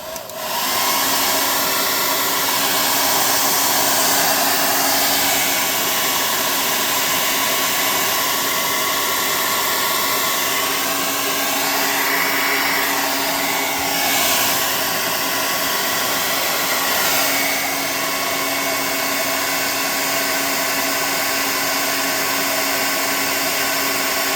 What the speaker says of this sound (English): let's hit him with the air gun